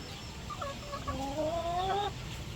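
A Rhode Island Red and Black Australorp cross hen gives a drawn-out, rising series of clucks, fairly faint over a steady background hiss.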